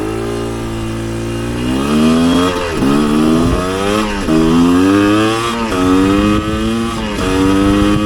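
A Chinese dirt bike engine revs repeatedly while being ridden, loud and close, its pitch rising and falling in several surging bursts over a steady mid-range drone, with no talking.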